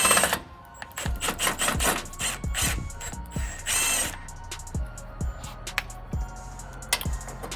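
Power tool working a bolt loose on a 2007–2020 Toyota Tundra during radiator support replacement, with repeated sharp impact bursts and ratcheting rattles close by, spaced irregularly across the clip with no talk.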